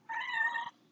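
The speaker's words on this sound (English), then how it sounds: "oh, here comes a library cat." A library cat gives a single clear meow, one drawn-out tonal call lasting under a second, close and fairly quiet in an otherwise still room.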